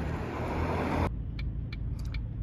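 Car interior on a rainy day in Ankara: outside rain and road noise cut off as the door shuts, leaving a muffled low cabin rumble with a few faint light clicks and jingles.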